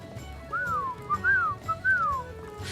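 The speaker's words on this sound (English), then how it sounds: "you hear a faint whistling" Three clear, rising-and-falling whistled notes, evenly spaced, carry over a quiet background, soft but distinct.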